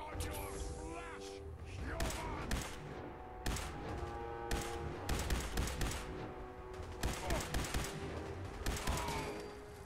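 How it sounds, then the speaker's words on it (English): Machine gun fire in the video game Fallout 4, rapid bursts of gunshots recurring through the clip amid game action and booms, with a voice talking over parts of it. "Ah, it has machine guns. Yeah, I hear them."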